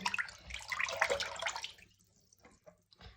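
Warm tap water runs while a squishy toy cube is being washed, a steady splashing flow for about two seconds that then stops, leaving a few faint drips and small clunks.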